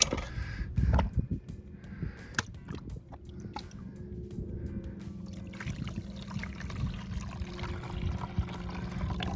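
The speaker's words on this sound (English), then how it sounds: "I need some water down in there." Water poured into real pay dirt during gold washing, a gurgling, sloshing trickle with wet gritty scraping and a few knocks, fairly close and steady.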